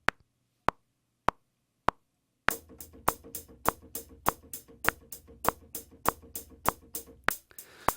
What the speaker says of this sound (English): So that's simple eighth notes on a hi-hat sound.